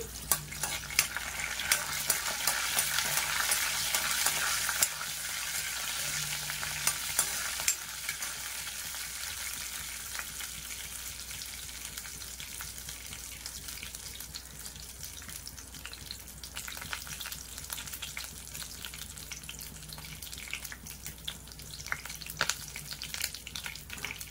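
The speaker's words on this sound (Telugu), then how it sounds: "ఇవి కొద్దిగా ఫ్రై అవ్వనిద్దాం." Vegetables for a bottle gourd and potato curry frying in a pan and being stirred, a loud sizzle at first that settles into a softer crackle, with scattered spatula scrapes, near and without talk.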